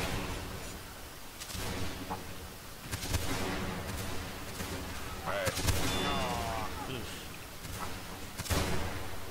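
Cannon and musket-style artillery fire in a multiplayer battle game, with repeated sharp reports and booms scattered across a busy background of battle noise and overlapping players' voices talking.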